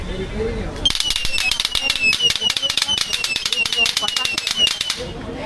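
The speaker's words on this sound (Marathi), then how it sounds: "फटाका" Rapid firecracker string popping loudly and continuously for several seconds during Diwali shopping at Tembhi Naka in Thane, a dense crackling burst of sharp bangs that starts abruptly after a moment of street noise and fades near the end.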